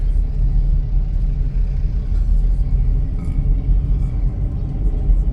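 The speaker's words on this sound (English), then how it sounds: "I'll give you an idea of what the traffic's like here." A car drives through light traffic in Lapu-Lapu, Philippines, with a steady low engine rumble and road noise from inside the vehicle, loud and continuous, with no talking.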